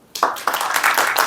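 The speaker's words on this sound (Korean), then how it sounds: "박수 한번 쳐주세요." An audience bursts into applause after a speaker announces a choir's national competition win, a short, dense round of clapping starting abruptly and holding steady.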